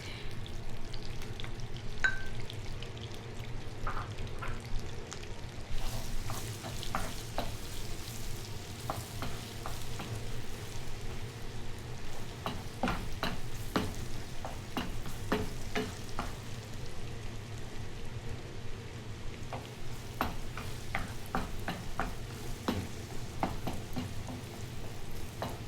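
Garlic sizzles in a pan of butter and olive oil, a steady crackling fry with scattered pops and stirring scrapes, close and moderately loud throughout, with no talk.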